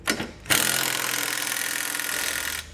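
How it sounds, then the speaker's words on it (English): Power tool driving a 19 mm socket whirs steadily for about two seconds while tightening Curt trailer hitch hardware on a 2018 Kia Optima, close and loud after a brief quieter start. "We can now go back and tighten our hardware with a 19 millimeter socket."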